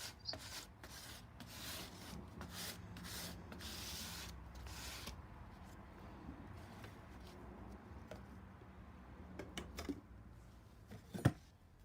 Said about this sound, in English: now I'm just smoothing over all in one direction with the very soft bristle brush